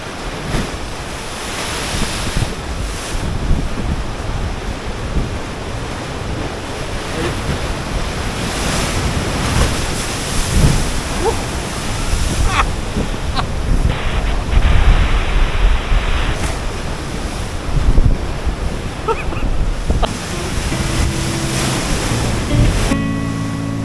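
Loud, roaring ocean surf crashing continuously near a coastal sea cave on the northern Coffs Coast, with wind buffeting the microphone, no voices.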